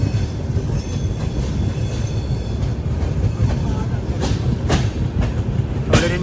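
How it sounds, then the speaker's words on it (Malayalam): A passenger train, the Mandore Express, pulls into Gurugram railway station in Haryana with a loud, steady rumble and rhythmic wheel clatter. Brief sharper clanks ring out near the end, under faint background voices. "ഹരിയാനയിലെ ഗുരുഗ്രാം റെയിൽവേ സ്റ്റേഷനിലേക്ക് ഇതാ ട്രെയിൻ എത്തിക്കൊണ്ടിരിക്കുക."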